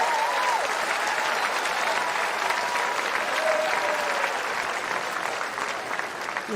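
A tennis crowd at the US Open applauds a point in a Navone–Evans second-round match, a dense, steady wash of clapping filling the stadium throughout, loud and sustained with no voices rising above it.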